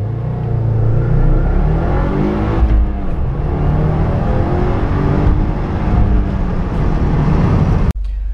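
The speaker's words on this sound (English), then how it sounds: "Let me try a stock acceleration here" A 2015 Subaru WRX Limited on its stock tune accelerates all out, heard from inside as a loud, close engine rumble climbing steadily through the revs with a gear shift partway, ending abruptly.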